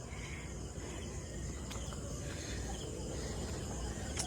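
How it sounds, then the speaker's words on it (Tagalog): Insects buzz and trill steadily in the open air at a memorial cemetery in Davao, a continuous faint high drone layered over low background rumble, with no talking. "yung mga sounds ng sikadas, yung mga kulisap ba?"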